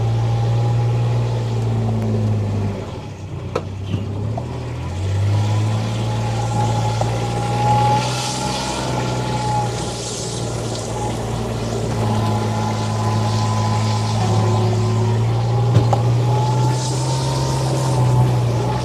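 A 2017 Kubota RTV-X900 utility vehicle running in full drive, its engine giving a steady, close hum with a shifting tone and no talk.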